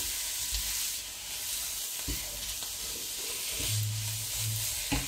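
Onions sizzle steadily in a hot pan, with scraping stir strokes and occasional soft knocks. The frying noise is close and continuous, with no voices.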